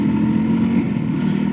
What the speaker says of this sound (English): It's got a nice little sound from the exhaust there